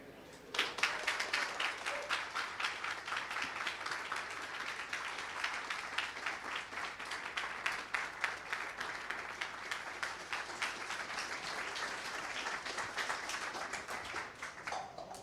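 A large audience at a talk on civil liberties and political systems claps steadily and continuously for about fifteen seconds, a dense even patter heard from within the room.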